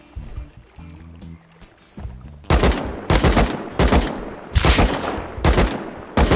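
Gunfire in the survival video game Rust: loud, dense bursts of shots arriving in several rapid volleys, close and heavy, following a quieter opening stretch of softer game sounds.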